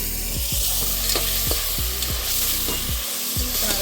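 Ingredients sizzle and sputter as they are stirred in a hot pan while cooking Chettinad-style thattai payiru kalani mandi, with steady frying hiss and repeated scraping strokes of a spoon, close and fairly loud with no talking.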